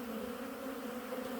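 Black honey bees at a hive during a late autumn wintering inspection, a continuous close, even buzzing drone with no voices.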